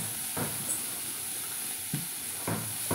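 Sliced dried coconut sizzles in hot oil with onion in a pan, a steady close frying hiss punctuated by a few brief scraping stirs, with no talking.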